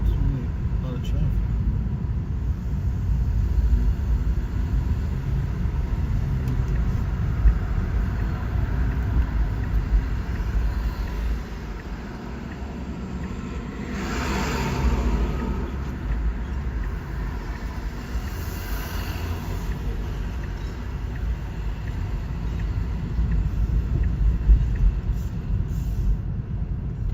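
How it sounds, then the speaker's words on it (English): Busy New York City street traffic heard from inside a ride-share car, a steady low rumble of engines and road noise with passing vehicles swelling and fading, continuous throughout with people talking now and then. "There's really a lot of traffic."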